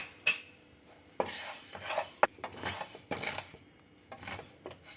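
Rice being dry-roasted in a pan for sambar powder, with quiet scraping and metallic clinks of a spoon against the pan at irregular intervals.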